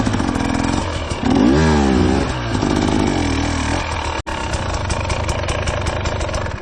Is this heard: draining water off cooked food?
no